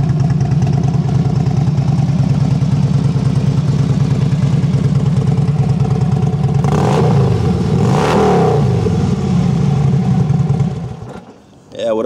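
A Harley-Davidson Ultra Classic FLHTCU motorcycle with aftermarket mufflers idles with a steady, low, throbbing engine note, briefly rising in a couple of revs before it cuts off near the end.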